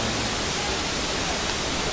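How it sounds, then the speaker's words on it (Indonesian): Rushing water of Sabet Waterfall (Pante Ceuremen) in Lamno, Aceh Jaya, forms an even, unbroken hiss of falling water that holds at a constant level with no voices on top. "Ini dia air terjunnya."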